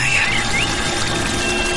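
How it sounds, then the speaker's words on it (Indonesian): Rippling river water flowing steadily nearby, a continuous broadband wash with a faint high whistle riding on top and no break across the moment. "Riak airnya terdengar jelas."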